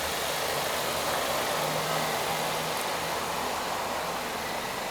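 A 2018 Changan CS35 with a 2-liter petrol engine idles nearby, a steady, even hum that stays constant throughout with no revving and no voices.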